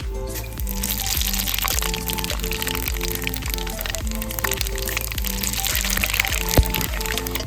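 Bay leaf, dried chilli and panch phoron spatter and crackle in hot oil in a pan, a steady close sizzle with frequent sharp pops, heard alone with a tonal hum running beneath.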